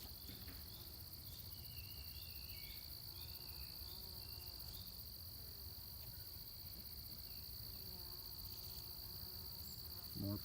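Honeybees from a struggling hive buzz in a faint, steady drone, with several individual insects passing close by against a constant high-pitched background whine.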